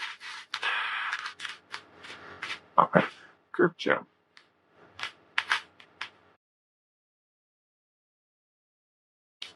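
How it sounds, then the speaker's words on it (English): Tarot cards being shuffled by hand, heard as bursts of papery riffling and crackling mixed with short spoken remarks over the first six seconds, then near silence. "These are so hard to shuffle."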